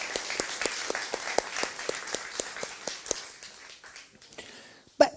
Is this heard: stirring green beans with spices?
no